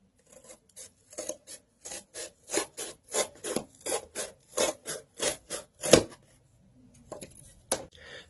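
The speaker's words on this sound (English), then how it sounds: "cut out some strips of cardboard about, I'd say maybe an inch wide or so" Strips of cardboard being cut by hand: a series of about fifteen close, rasping scrapes in an even rhythm, each brief and crisp, pausing briefly near the end before one last cut, with no talk.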